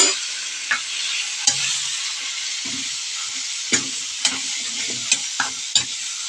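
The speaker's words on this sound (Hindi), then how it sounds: "थोड़ा सा हरे साग को इसमें भूनेंगे।" Green leafy saag stir-fries in a pan with a steady sizzle, punctuated by several sharp scrapes and knocks of the spatula against the pan.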